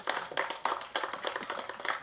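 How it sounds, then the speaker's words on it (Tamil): An audience at a Tamil film event for Thookuthurai claps, a fairly faint but steady patter of many hands with uneven bursts, without talk. "தயவு செஞ்சு நீங்களே ஒரு தடவை கைத்தட்டிடுங்க"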